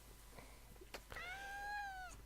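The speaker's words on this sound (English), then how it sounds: "a cat has just joined me, so there's going to be two of us doing the presentation" A domestic cat meows indoors: a single clear, drawn-out meow with a rising then falling pitch, heard close against a quiet room background, preceded by faint small taps.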